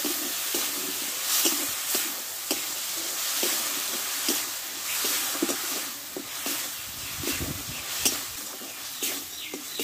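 Cucumber dish sautéing with soaked chickpeas, peanuts and ground paste water: a steady loud sizzle and hiss with regular spoon stirs and scrapes against the pan, close up and continuous, with no voices.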